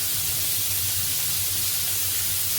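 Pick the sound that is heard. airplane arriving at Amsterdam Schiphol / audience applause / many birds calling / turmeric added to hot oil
turmeric added to hot oil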